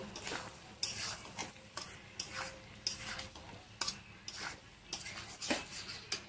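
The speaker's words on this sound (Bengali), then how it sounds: "এবার আমি এই যে এঁচড়গুলো সব ভেজে রাখা সবগুলো একসঙ্গে দিয়ে দেবো ভালো করে কষিয়ে নেব" Fried jackfruit pieces are stir-fried in a spice paste, giving a soft sizzle under repeated scraping and clinking strokes of a spatula against the pan, each stroke sharp and close, with the overall sound fairly quiet.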